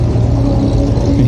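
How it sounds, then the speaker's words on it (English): Car engines rumble at a raceway, a loud, continuous low drone with a slight revving edge, heard from nearby for a brief moment. "You can hear engines."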